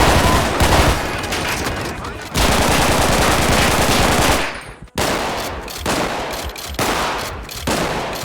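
Heavy automatic gunfire from GTA 5 with a realistic weapon sound mod, loud dense bursts of punchy shots with a brief pause near the middle, then more rapid firing.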